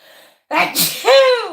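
One loud, close sneeze with a sharp intake of breath before the burst and a voiced trailing sound after.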